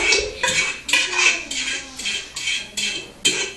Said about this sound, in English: you want to take your strainer and just kind of scoop them out so that you get all your noodles